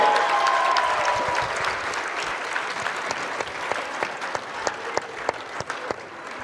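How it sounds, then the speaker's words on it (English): A gym crowd at a North Dakota Division B girls basketball game in Tioga gives a round of applause. The steady clapping is loud at first, then thins into scattered individual claps. "How about a big round of applause for Mia?"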